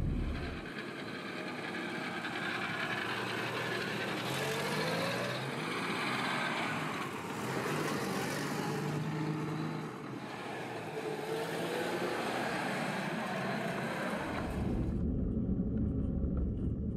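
A Soviet Moskvich 411 car, around 60 years old, runs with a steady low engine rumble and droning road noise that holds nearly constant, then cuts off abruptly near the end.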